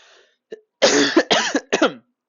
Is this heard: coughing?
yes